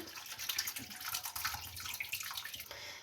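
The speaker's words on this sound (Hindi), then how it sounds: "और 1 गिलास के करीब इसमें पानी शामिल कर दें।" Water pours and splashes into a cooking pot of mutton dil kaleji masala close by, a steady gurgling stream with no talking.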